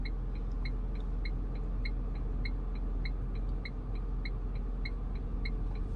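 Tata Punch car creeping slowly with a low steady engine rumble close inside the cabin, plus a regular ticking of a repeating chime or indicator over the hum, no speech.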